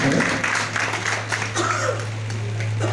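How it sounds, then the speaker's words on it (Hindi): Audience applause at a book launch held with a press club, a steady patter of clapping over a constant low electrical hum, fairly close and continuous throughout. "समाज सभी तालियों से सबका समर्थन करें।"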